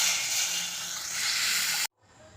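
Tamarind water poured into a hot pan of fried green chillies gives a loud, steady hiss lasting nearly two seconds, then it cuts off abruptly and leaves a faint simmer.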